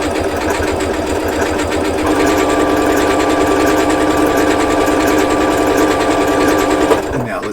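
A Janome Continental M7 sewing machine stitches with a loud, fast, continuous mechanical whir close by, running steadily throughout before stopping abruptly near the end.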